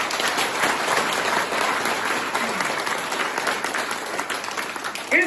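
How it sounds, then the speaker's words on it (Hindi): An audience claps together in a dense, sustained round of applause for a coaching centre, loud and steady from start to finish with no talk over it. "इसके लिए ताली बजाओ एक बार।"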